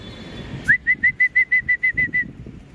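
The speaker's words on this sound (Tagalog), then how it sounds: "may bumaba tayong ibon, kulay itim" A racing pigeon comes in to land during a race, wingbeats flapping in a quick even series of about ten strokes, loud and close after a sharp start, over quiet background murmur.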